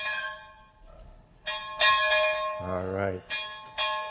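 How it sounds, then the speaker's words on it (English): An old hand-rung school bell on Sanibel Island clangs in bright, ringing strokes, several separate hits with long overtones that ring on between them, loud and close, with a brief voice speaking near one stroke. "here we are going to be ringing the school bell for kids to come in"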